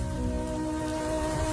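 Heavy rain pours steadily near a riverbank in cold weather, a dense even hiss of drops on surfaces that stays constant and loud, with a faint tonal hum running underneath.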